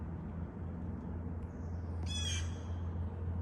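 Baby birds in a garage let out a brief, high, rasping squawk over a steady low hum, close by and otherwise quiet.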